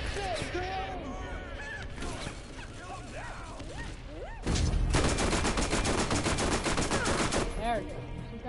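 Rapid gunfire in Borderlands blends shotguns, SMGs and sniper rifles into bursts that turn into a dense, sustained fusillade in the second half, with voices talking over the shooting.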